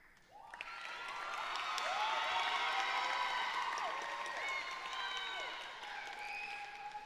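Graduation ceremony audience at Mound Street Academy breaking into sustained applause, swelling quickly into loud clapping mixed with whoops and cheers before gradually easing off.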